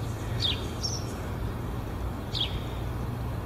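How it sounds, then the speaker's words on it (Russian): Faint, distant birdsong sounds outdoors on a spring day, a few thin high chirps scattered over steady background noise and a low rumble, with no one talking. "и птички поют."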